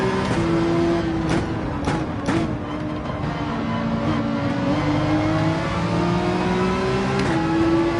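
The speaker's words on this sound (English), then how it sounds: "Ferrari sounding pretty darn incredible" A Ferrari engine in the Gran Turismo 7 racing game holds a steady, loud sustained tone with rising pitch as it revs, a few sharp bursts early on, with no talking.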